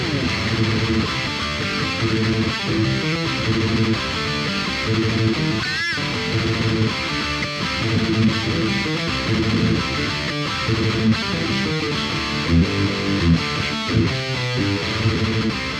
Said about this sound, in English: So I'm going to use good old faithful a tube screamer.